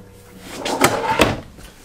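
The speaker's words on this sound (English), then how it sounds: "And then a drawer in through here." A drawer slides open inside the bedroom of a 2022 Heartland Milestone 326RL fifth-wheel RV, giving two quick close knocks about a third of a second apart with a short scraping rub between them, and no voices heard.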